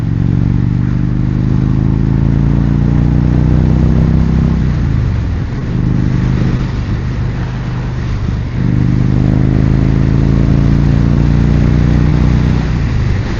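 An Indian Springfield Darkhorse motorcycle with a 116 Thunderstroke engine and performance exhaust rumbles loud and close, revving up in rising sweeps, easing off twice, then pulling through again.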